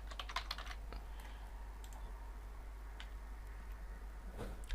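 Administrator password keys tapped on a computer keyboard for a Windows Server 2008 setup: a quick burst of light clicks at the start, then a few scattered taps over quiet room hiss.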